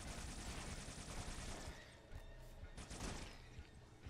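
Dense bursts of automatic gunfire crackle through a Halo video game battle, rapid continuous volleys that briefly drop out before another loud barrage resumes.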